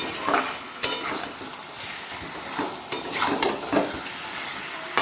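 Spices and chopped yellow capsicum sauté on a high flame for a boiled chicken curry, with a soft sizzle beneath intermittent metallic scrapes and clinks of a spoon against the pan, close and moderately loud.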